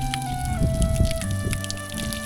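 Strong mountain stream water rushes steadily and close by in a valley village, a dense continuous splashing with no pauses.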